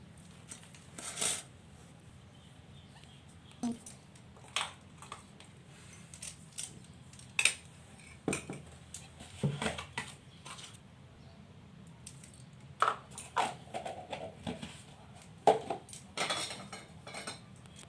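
A spoon clinks and scrapes against metal pots during outdoor cooking of leaf-wrapped dried fish, with sharp, irregular metallic taps and rattles spaced across the stretch, fairly close by.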